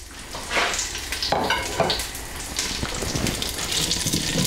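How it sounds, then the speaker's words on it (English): Onions fry gently in olive oil in the bottom of a pot for beef bourguignon, a steady close sizzle broken by scraping and clattering as a utensil moves them around, with no talk. "we're just going to fry these onions very gently, just for a couple of minutes"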